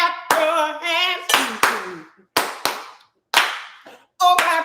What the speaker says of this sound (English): If the food is good, clap your hands.